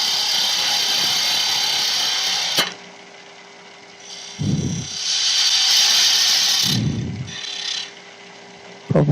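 A chisel squares off the ends of a wood-turned keyring on a lathe, giving a steady high whirring hiss with bursts of harsh scraping, interrupted by pauses and low thumps as the tool meets the spacer.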